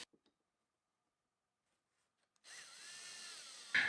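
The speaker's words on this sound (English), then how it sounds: "I just use a cheap drill guide with my hand drill and a Forstner bit" After a stretch of near silence, a hand drill with a Forstner bit starts up and whirs steadily, boring in close with a rising pitch.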